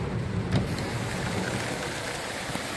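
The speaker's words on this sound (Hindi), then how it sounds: "और ये बारिश तो देखिए गाइस, इतनी ज़्यादा बारिश है" Heavy monsoon rain drumming on a moving car during a downpour, heard from inside as a continuous hiss and patter over a low engine and road rumble, with a few brief louder thumps.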